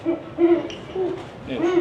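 A little owl hoots repeatedly in a steady rhythm, about four clear wavering calls, fairly close and prominent against a low background.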